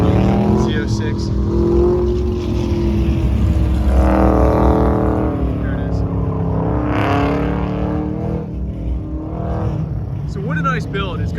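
A Corvette Z06 engine runs loud and steady at a car show with a rumbling drone, while a voice talks over it and the revs rise and fall slightly.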